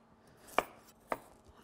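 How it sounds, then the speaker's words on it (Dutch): A knife chops a carrot into small pieces on a board, two sharp, close cuts about half a second apart in a quiet kitchen. "Hetzelfde doe ik met de wortel. Een paar kleine stukken van snijden."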